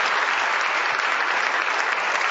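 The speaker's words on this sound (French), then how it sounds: "il faut applaudir très fort" An audience at a special event applauds steadily and loudly as young people come up to the stage, a dense, even wash of clapping with no voices over it.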